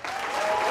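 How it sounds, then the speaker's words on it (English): A comedy club crowd applauds as a comedian is introduced, a dense, even wash of clapping at full loudness for a very short stretch. "Put your hands together for Mr."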